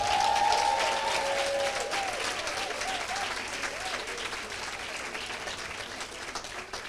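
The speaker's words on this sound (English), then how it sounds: "Can we please give another round of applause?" Audience applause at a social development professions pledge ceremony, a steady crowd clapping that stays full and continuous for about seven seconds, with a brief tonal sound near the start.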